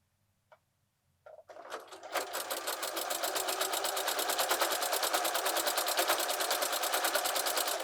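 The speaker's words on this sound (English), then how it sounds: "So we're in a good placement, so now we can keep sewing" Sewing machine stitching a quilted place mat: a couple of soft clicks, then the motor starts up and settles into a steady, rapid, close mechanical chatter that runs on without pause.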